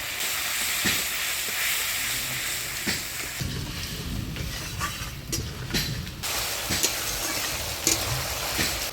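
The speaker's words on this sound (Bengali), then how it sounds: "হলুদ লবণ দিয়ে সরষে বাটাটা ফোড়নের তেলে নাড়াচাড়া করে নিলাম" Mustard paste with turmeric and salt fries in hot tempering oil seasoned with nigella seeds and green chilli, a continuous loud sizzle and hiss broken by scraping clicks of stirring.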